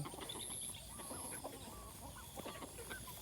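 Chickens being fed food scraps cluck softly and steadily nearby, a low chorus of short clucks over a faint outdoor background.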